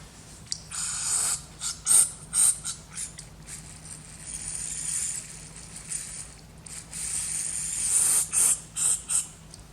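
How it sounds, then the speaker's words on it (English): Short hissing spray bursts from an aerosol can sprayed into a 1987 Polaris Cyclone, repeated in quick clusters with pauses between, close by and fairly loud. "Now you want to spray down in there."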